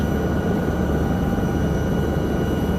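A LAMA helicopter engine in an alpine rescue flight simulator drones steadily with a dense, rumbling roar and thin tonal whine, constant and loud with no voices.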